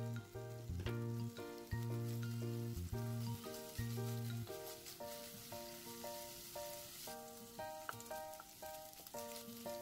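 Paneer pieces fry lightly in a spoonful of oil in a pan, giving a soft continuous sizzle and crackle under a faint background tone, with no one speaking.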